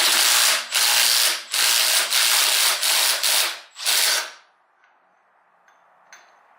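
A socket ratchet spins off a motorcycle's clutch basket nut during removal of the inner and outer primary: several loud, close bursts of rapid clicking separated by short pauses, ending in near quiet with a couple of faint taps.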